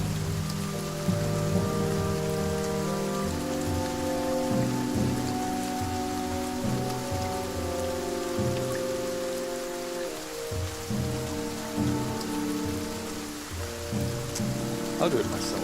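Dense, steady rain falling on a bog in the video game The Banner Saga 2, a constant hiss of drops with low rumbling underneath, carrying on without a break over soft background music.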